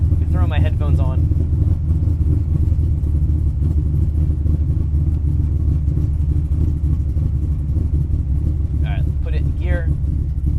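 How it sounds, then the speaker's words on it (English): A naturally aspirated GM LS7 V8 installed in a Datsun Z, running at a steady, deep rumbling idle close by that stays constant throughout, with brief voices heard at the start and near the end. "Let's fire it up."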